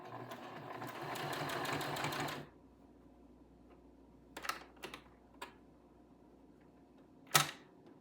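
A sewing machine stitches flannel pants in a steady whirring run of about two seconds, then stops, followed by a few faint clicks and a sharp snap nearby in a quiet room.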